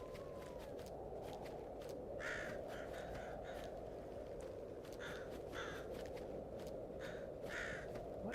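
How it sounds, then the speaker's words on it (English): Crow in the Dead Frontier 2 video game cawing in repeated short bursts, several distinct caws spread across the clip over a steady low ambient rumble, with faint footstep-like sounds and no talking. "I still heard a crow."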